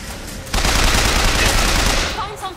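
Sustained automatic machine gun fire in the BioShock Infinite video game bursts in after a quiet half-second, a dense, loud, unbroken rattle lasting about two seconds before tapering off.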